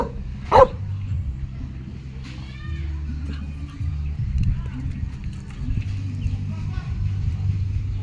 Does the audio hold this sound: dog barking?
yes